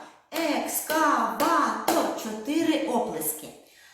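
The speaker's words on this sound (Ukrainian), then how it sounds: "Ще можна проплескати слова." Hands clap out the syllables of a word, about five evenly spaced claps falling together with a voice as she says it slowly, then a brief quiet.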